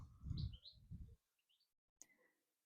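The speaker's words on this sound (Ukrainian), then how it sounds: "до нас завітала пташка, яка так ніжно співає" A few faint bird chirps and short tweets in the distance, mixed with low rumbling noise at first, then near silence and a sharp click.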